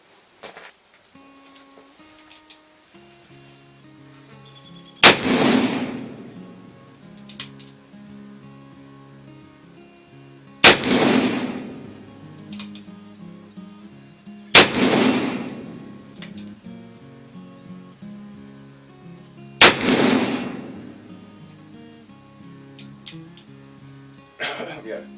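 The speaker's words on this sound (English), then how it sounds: "we'll shoot one last group of 6 with just the powder ball, and our lube is on top of it" Four sharp, loud gunshots from an 1858 Pietta black powder revolver loaded with powder and ball under lube, spaced several seconds apart, each with a booming decay, with quiet background between shots.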